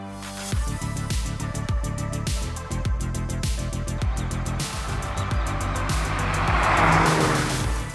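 A 2023 Honda Civic Type R hot hatch is driven hard, its engine revving loud and close in repeated rising pulls broken by quick gear shifts, with a brief tyre squeal late on.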